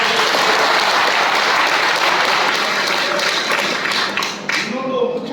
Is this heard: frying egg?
no